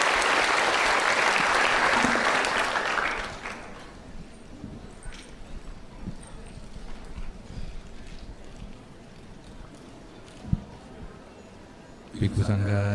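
Audience applause for a senior Buddhist monk at a talk, a thick burst of clapping for the first three seconds that fades out, followed by quiet room noise with scattered small knocks.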